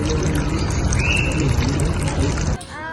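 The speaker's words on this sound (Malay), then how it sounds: "Alirkan air yang bersih ke tangan kanak-kanak." Clean water poured over a child's hand during a first-aid practical, a steady close splashing pour that runs for most of the clip before cutting off near the end.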